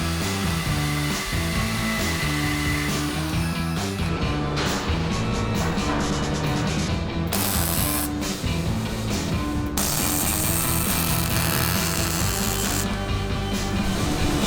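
Power tool cutting off the fixed tip of a motorcycle shift lever, a loud continuous grinding whine that holds steady throughout with small shifts in pitch and no talk.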